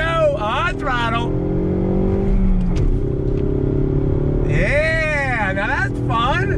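A Ford Mustang EcoBoost with a six-speed manual revs hard while cornering with heel-toe downshifts, its engine note rising and falling in loud sweeping pitches, close and continuous.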